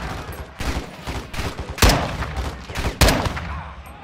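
Gunfire in the video game Modern Warfare 2, a loud continuous fusillade with several heavier sharp shots standing out in an uneven rhythm, close and alone.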